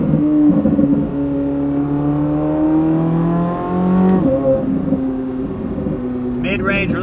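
A C8 Corvette Z06 with a titanium exhaust and stock downpipes revs hard, its engine note climbing smoothly in pitch, dropping, then rising again, loud and close, with someone talking over it.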